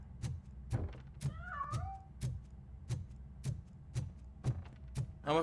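A cat meows with a rising, wavering cry in RoboCop: Rogue City, set against a steady run of heavy rhythmic thuds, like mechanical footsteps, repeating about twice a second with no voices.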